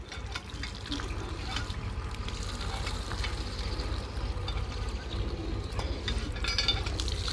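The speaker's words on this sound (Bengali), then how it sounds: "হাতটা ধুয়ে নাও ভালো করে ধুয়ে নাও" Hands are rinsed under cold water gushing from a tube well, a continuous close, dense splashing and rushing flow that barely changes over several seconds.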